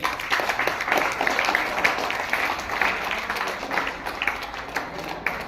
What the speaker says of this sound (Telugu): అన్నవాళ్ళు గట్టిగా చప్పట్లు కొట్టండి